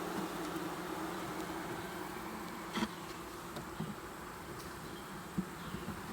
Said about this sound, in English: A lot more bees though than there were a few days ago